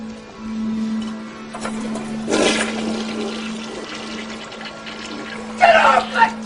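A toilet flushing indoors, heard as a steady rushing and gurgling of water under a constant electrical hum, with voices speaking over it.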